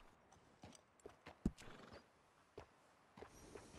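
Horse hooves clip-clop in uneven steps in Red Dead Redemption 2, with a sharp loud knock partway through and short whinnying bursts, fairly close and without talk.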